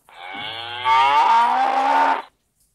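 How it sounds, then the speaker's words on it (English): One long, loud cow moo, starting low and swelling into a strong, sustained bellow lasting about two seconds before stopping abruptly; close-up with no other sounds or voices. "cow."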